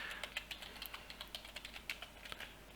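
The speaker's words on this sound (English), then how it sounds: "you just get to type this with me in real time" Computer keyboard keys clatter in quick, uneven bursts of soft clicks, close but quiet, with no talking.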